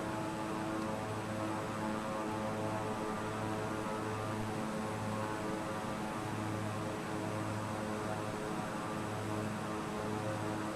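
Airplane engine in a flight simulator game drones steadily at moderate level, a continuous propeller-like hum with a faint pulsing beat and no voices over it.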